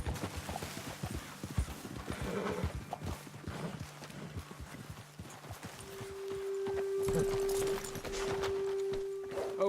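Horse hooves clip-clop at a walking pace in Red Dead Redemption 2, several animals close by on the trail, with a steady hum joining partway through.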